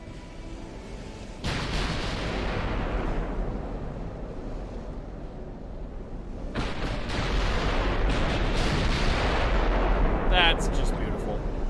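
Naval artillery in a dreadnought-era warship game, battleship triple turrets firing broadsides, loud rumbling booms layered into a continuous roar with a sharper burst near the end, no talk over it.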